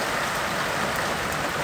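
Rain falls steadily outdoors in California, a dense, even hiss of drops on surfaces that holds constant and fairly loud throughout, with no voices.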